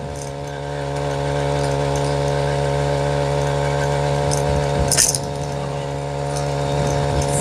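Four-stroke motorized BMX bike engine running steadily while riding through Phoenix streets, a constant buzzing drone with a brief bump or rattle midway and no talking.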